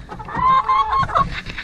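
Hens in a small backyard flock of ten cluck in a close, clear burst of several short calls over faint background noise.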